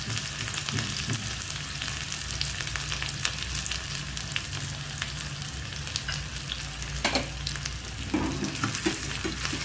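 Half an onion fries in a pan for a dal palak, a strong, constant sizzle and crackle close up, with occasional stirring scrapes near the end.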